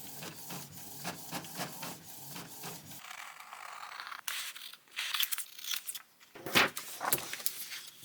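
An inkjet printer printing cards whirs and clicks, a rhythmic mechanical chugging of the print head followed by paper feed rattles and sharper clunks, close by and moderately loud.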